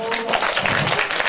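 Audience applause at a Nu Skin business presentation, a dense, steady patter of clapping filling the whole moment while a voice talks over it.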